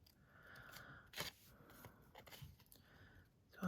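Scissors snipping around letter shapes cut from card, a few soft crisp snips spaced irregularly with light paper rustle between, close and quiet.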